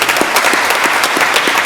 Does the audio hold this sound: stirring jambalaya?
no